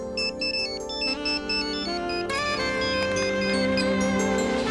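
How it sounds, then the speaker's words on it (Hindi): A cellphone ringtone plays a bright, repeating electronic melody, loud and close, growing fuller partway through with no voices. "तभी मेरे सेलफोन की घंटी बजी।"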